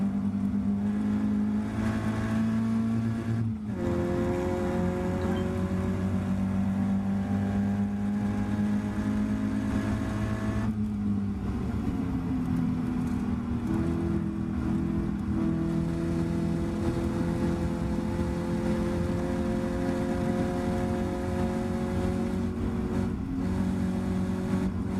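Caterham race cars scream around the Snetterton circuit, engines rising in pitch through the gears, dropping off briefly at shifts and braking, then climbing again as they pass at close range.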